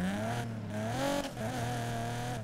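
Ford GT engine in the Need for Speed Payback racing game, running at sustained high revs with a smooth tonal whine that rises and dips as the throttle shifts, loud and close.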